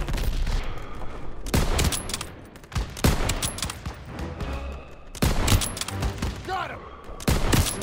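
Dense war-game gunfire from Call of Duty WWII, bursts of automatic fire and sharp shots in several loud volleys, with shouted voices mixed into the battle.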